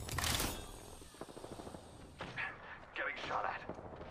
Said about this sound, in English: Getting shot at. Firing on the subject.